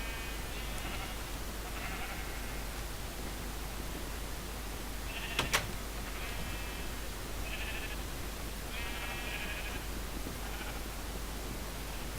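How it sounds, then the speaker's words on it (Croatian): Sheep in the Minecraft video game bleat several times in short, nasal calls spread across the span at a moderate level, over a steady background hiss. "idemo prvo još i ove neke ovce da uvedemo vamo"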